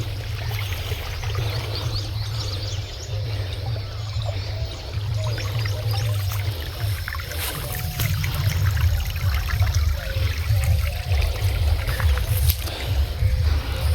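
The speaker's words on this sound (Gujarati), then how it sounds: "પાણી આવી ગયું છે" Borewell water gushes and pours out into a farm field, a continuous close rushing flow with a low rumble underneath that swells a little louder partway through.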